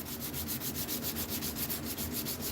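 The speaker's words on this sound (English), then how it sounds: "You sand like the wind. You sand like you're in the desert." A knife blade is sanded by hand in rapid back-and-forth strokes, producing a steady, rhythmic scratchy rasp up close with no talking.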